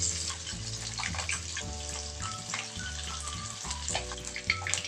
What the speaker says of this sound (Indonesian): Lanjut kita goreng ayamnya ya. Kita goreng sampai golden brown ya.